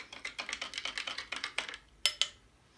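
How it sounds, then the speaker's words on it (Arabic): Sugar is stirred into warmed milk, producing a quick rhythmic run of light scraping clicks close by that slows toward the end with a couple of sharper knocks. "اقلب السكر ده كمان."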